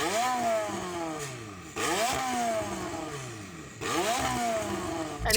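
An 1100 hp McLaren 720S engine revs hard three times in a row, each climbing whine building fast and then dropping back. It is loud and close, with no talk.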